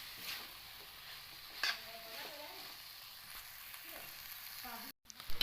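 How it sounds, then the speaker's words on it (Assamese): Lobia and potatoes stirred in a frying pan for a masala curry, a soft steady sizzle with scraping spoon strokes and a brief clatter near the end. "এইখিনি দি ভালদৰে লৰাই দিম।"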